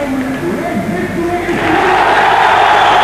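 A stadium crowd in Gibraltar's Victoria Stadium erupts after a football match victory, a broad wash of cheering and clapping that swells louder midway and holds steady.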